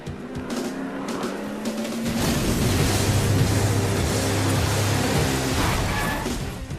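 A car driving off in a Jak X video game cutscene, engine noise building into a loud, steady roaring rush that fades slightly at the end, with no talking.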